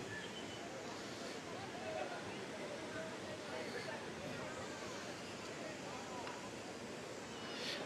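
Water rushes continuously at Usri Falls, a steady broad roar of flowing and falling water heard from close by, fairly soft overall, with a voice speaking over it.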